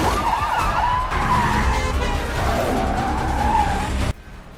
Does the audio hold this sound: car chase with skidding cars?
yes